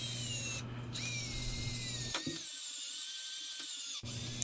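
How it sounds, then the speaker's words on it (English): A power drill whines steadily up close drilling a 1/4-inch hole in hickory, its motor tone shifting pitch as it bites, briefly cutting out before spinning up again. "Here I'm just drilling a 1/4-inch hole"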